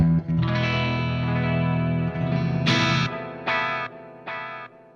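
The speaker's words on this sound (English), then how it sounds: "here is space. Like I guess it's like a Roland Space Echo." A guitar played through a stereo tape-style echo pedal modelled on the Roland Space Echo, sustained chords followed by three repeating, fading echo bursts, no talk.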